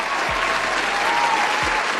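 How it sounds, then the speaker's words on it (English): Audience applause following a call to show appreciation, a steady, dense wash of clapping from a crowd lasting throughout, loud and continuous with no talk over it. "So let's give her a round of applause for that."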